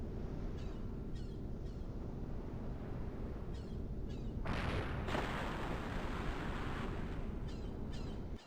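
Cannon fire aimed at a warship in the Breath of Fire 3 video game: a heavy boom with a sustained roar over steady rushing waves, plus several faint repeated shots, loud and without talk.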